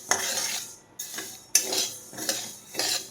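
Mustard seeds dry-roast in a pan for traditional pickle, heard as a series of close scraping, rattling strokes of a spoon against the metal, several in an uneven rhythm, with a faint sizzle beneath.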